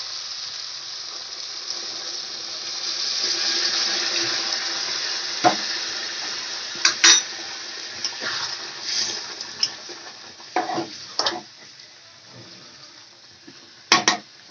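Hot water is poured into a potato and pointed gourd curry, a steady hissing, rushing pour that runs on for several seconds, broken by a few sharp clinks and knocks, close and fairly loud with no voices.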